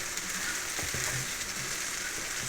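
Onions frying and being stirred in a pan for a Kerala-style prawn roast, a steady dense hiss of sizzling oil with soft scraping and stirring knocks, no talk.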